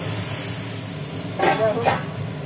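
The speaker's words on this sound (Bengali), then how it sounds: "পড়ে গেল ঢাকনা।" A pot lid drops and clatters twice in quick succession, sharp and close, over a quiet kitchen background where pointed gourd is frying in oil.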